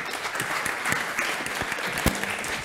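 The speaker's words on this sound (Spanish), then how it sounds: "Le vamos a dar una calurosa bienvenida también y un aplauso" An audience at a technical conference on Android and Odoo development claps to welcome a speaker, a close, dense burst of applause with a few sharper individual claps standing out over the steady patter.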